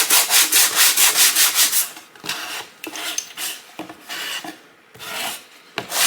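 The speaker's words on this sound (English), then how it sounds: "I'm just going to take a little sanding block" A sanding block rasps back and forth over layered adhesive vinyl in steady, rhythmic strokes, fast at first, then slower with short pauses between passes.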